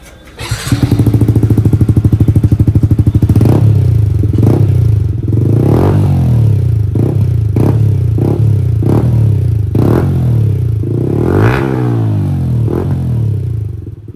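A Yamaha MT-15 motorcycle fitted with an R1M full-system exhaust idles loudly up close, then blips the throttle in a series of sharp revs, roughly eight quick rises and drops, with a longer pull near the end.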